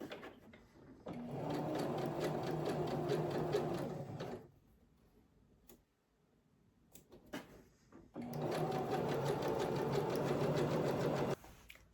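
A sewing machine runs a zigzag stitch along a skirt in two sustained bursts of about three seconds each, separated by a quiet pause with faint handling noises.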